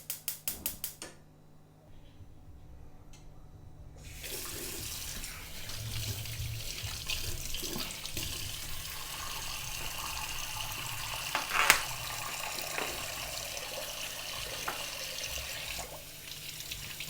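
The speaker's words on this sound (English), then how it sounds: "Just washing off the salt before I put it in the pot." Saltfish being rinsed under a running kitchen tap, a steady stream of water splashing into a sink that runs continuously after a brief quiet start, close and fairly loud.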